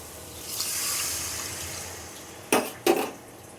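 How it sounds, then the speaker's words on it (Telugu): A glass of water is poured into a pan of prawn and egg curry, giving a soft, sustained pour near the start, then two brief sharp clatters of metal utensils toward the end. "1 గ్లాస్ వాటర్ వేసుకుందాం"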